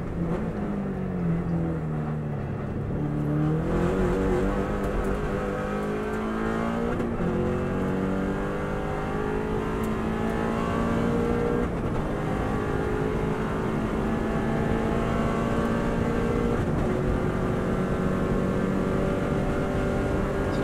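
A Subaru WRX STI at full throttle in sixth gear on an Isle of Man road course, its engine note holding a steady, loud drone with slowly rising pitch and occasional shifts, close and continuous.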